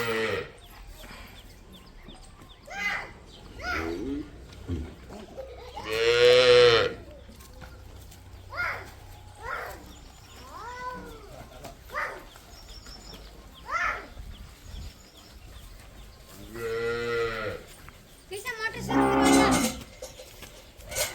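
Cows in a village moo several times, some close and loud and others softer and farther off, spread out between quiet stretches with occasional faint voices and background noise.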